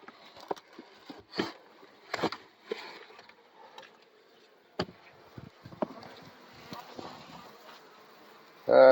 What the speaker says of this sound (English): we're going to be installing 2 packages of bees.